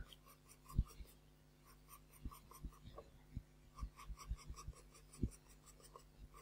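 Pencil strokes sketching hair strands on paper, a quiet irregular series of short scratchy scrapes and taps, some louder and close, over a soft steady hum.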